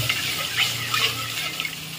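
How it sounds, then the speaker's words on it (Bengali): A pan of pumpkin-leaf rolls bubbles and sizzles steadily as a little water goes in for the gravy, with a soft hiss and light stirring throughout and no voices. "এবার গ্রেভির জন্য অল্প জল দিয়ে দেব।"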